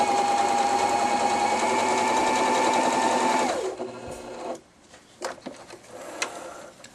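An Elna 3210 sewing machine stitching a decorative pattern runs with a loud, steady motor whir and rapid needle chatter for several seconds, then stops, followed by a few handling clicks and knocks, with no talk.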